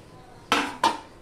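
Two sharp metallic clatters ring out about a third of a second apart as fried capsicum is tipped into a cooking pan, each with a short bright decay over a quiet background.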